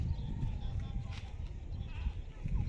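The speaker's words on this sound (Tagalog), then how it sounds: "Ang dami pala nilang kambing." A large herd of goats on a farm bleats in short, scattered calls over a constant low rumble of outdoor noise. People talk nearby.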